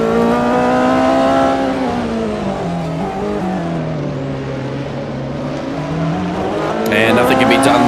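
Lancia and Mercedes Group C prototypes race at Le Mans 1985 in a video game, loud sustained engine whine with shifting pitch as the cars battle, then a rising rev at the end, heard alone.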